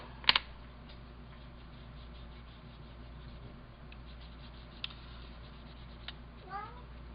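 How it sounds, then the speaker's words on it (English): A cat gives a brief meow near the end amid quiet room noise, with a few soft clicks and taps scattered throughout. "Meow. It's my kitty."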